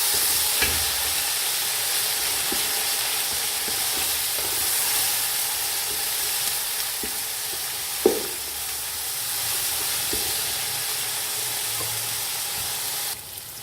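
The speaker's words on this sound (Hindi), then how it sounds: "इसे भी 1 से 2 मिनट फ्राई करेंगे प्याज के साथ" Onions and green chilli paste frying in a pan for rice pulao, a steady sizzling hiss with occasional soft stirring clicks and one sharper knock, close and constant with no talk.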